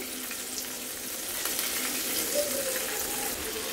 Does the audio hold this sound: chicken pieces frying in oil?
yes